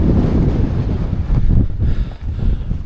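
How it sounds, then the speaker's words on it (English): Strong wind buffeting the microphone on a Lake District fell summit, a loud, close, continuous roar with gusting surges and no voices. "as you can probably hear, that's right in the wind"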